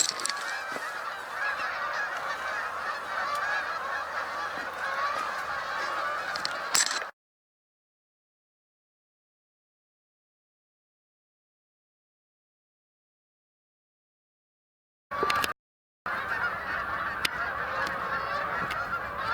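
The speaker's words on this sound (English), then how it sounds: "Hundreds of geese." A large flock of Canada geese honking continuously, a dense chorus of overlapping calls, cut by a long silent gap before resuming.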